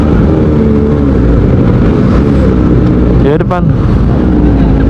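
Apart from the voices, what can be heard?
Kawasaki ZX25R motorcycle with Arrow Pro Race exhaust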